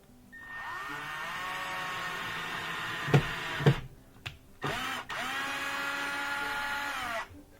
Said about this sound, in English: I'm just going to start the first screw.